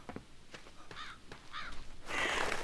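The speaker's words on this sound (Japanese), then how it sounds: "カラスがいて" A crow in a Japanese horror adventure game caws twice in harsh rising calls, moderately near, before a wash of broadband noise swells at the end.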